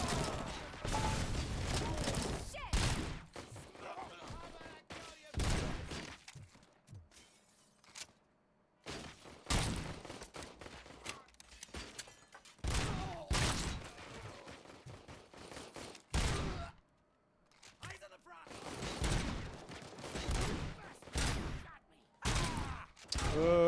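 Repeated bursts of gunfire, including rapid automatic volleys with an assault rifle, in the video game RoboCop: Rogue City, loud and intermittent with short pauses between salvos, while someone talks over the action.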